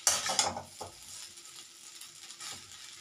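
Chow mein tossed with sauce in a hot kadai: a couple of sharp scraping stirs open over a soft, steady sizzle that continues alone.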